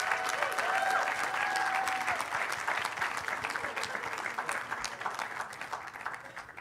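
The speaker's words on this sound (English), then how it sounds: "let's give her a round of applause" Sustained applause from a ceremony audience for an honoree at a sociology department event, dense clapping that starts loud and slowly thins and softens over several seconds, with a faint voice briefly audible early on.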